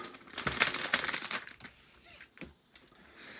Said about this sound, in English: let's peel open the laptop